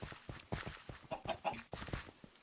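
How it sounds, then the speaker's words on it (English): Chickens (called Grooks) clucking in the Minecraft-based game Wynncraft: a quick series of short, close clucks in irregular rhythm, fairly quiet. "It's interesting that they call their chickens Grooks."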